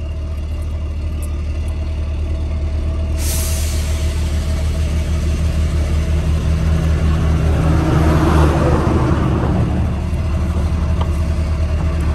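A truck idling loudly nearby with a deep steady rumble, a sharp burst of air hiss about three seconds in, and engine noise swelling and easing toward the end.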